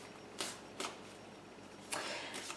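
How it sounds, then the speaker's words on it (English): Tarot cards being shuffled, fire-sign deck, in three or four quiet riffling bursts separated by short pauses, close and soft with no talk. "So I'm going to go ahead and start shuffling here my fire signs."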